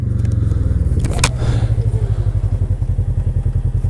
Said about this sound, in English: I hear dirt bikes.